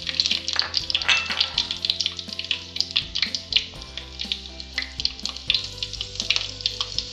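Halved green chillies dropped into hot oil with popped mustard seeds and fenugreek, producing a loud, steady crackling sizzle with dense spitting pops throughout and no voices.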